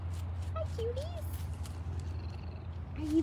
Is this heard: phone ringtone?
no